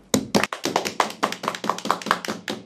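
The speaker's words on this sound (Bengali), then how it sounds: "আসুন আমরা ওনাকে হাততালি দিয়ে বরণ করি।" A small group claps by hand to welcome back a returning member, a quick run of sharp, fairly close claps that fades after a few seconds, with no talking.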